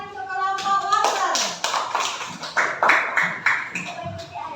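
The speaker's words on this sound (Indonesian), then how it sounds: "Tepuk tangan untuk kelompok wortel." A classroom of children claps for the carrot group in a quick, rhythmic patterned clap, with sharp bursts of hand sounds under young voices chanting along.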